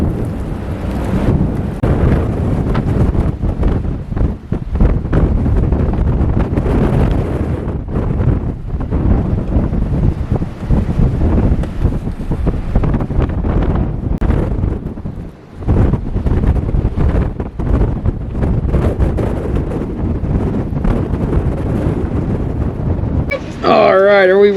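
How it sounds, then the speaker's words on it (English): Blizzard wind blows hard and continuously during a winter storm camp-out in a driveway, a loud, roaring, buffeting rush across the microphone throughout, with people talking beneath it. "Not a lot of snow because the wind just won't let it accumulate."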